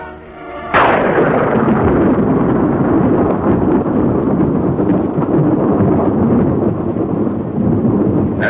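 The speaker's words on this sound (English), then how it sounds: "Seconds later, the blast wave reaches the trenches." An atomic bomb's blast wave hits with a sudden, massive roar and then rolls on as a long, loud, rumbling thunder that barely fades over several seconds.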